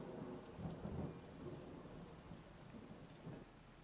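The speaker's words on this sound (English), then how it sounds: "So fitting that it's in the rain." Steady rain pours throughout a Minecraft world in Hypixel Skyblock, with deep rumbling thunder rolling underneath in several low swells, loud and close with no talking.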